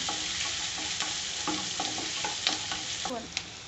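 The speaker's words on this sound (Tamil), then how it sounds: "ஒரு நாலு பூண்டு பல்லை வந்து நசுக்கி வச்சுருக்கேன் அதையும் போட்டுக்கிட்டேன்" Four crushed garlic cloves fry in oil in a pan, giving a constant close sizzle with repeated light scraping and tapping of a spoon stirring them.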